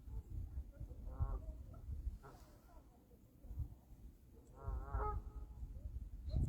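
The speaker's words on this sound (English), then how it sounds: "Canadian geese" Canada geese honk in a few bursts at mid distance, scattered calls rising and falling over a low outdoor rumble, with a person talking faintly at times.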